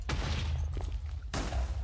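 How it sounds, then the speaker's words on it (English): A controlled blast clearing stone in the video game Minecraft gives a loud, crackling burst with rumbling debris, then a second sharp blast shortly after. "It's a really controlled explosion."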